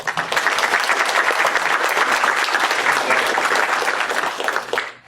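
An audience at the BSidesAugusta 2014 security conference bursts into loud, sustained applause, a dense wash of clapping that holds for about five seconds before tapering off.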